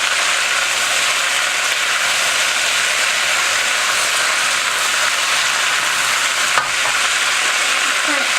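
Ratatouille vegetables, zucchini among them, sizzle and fry in oil in a hot pan, a steady dense hiss that runs unbroken throughout, with one brief clink near the end.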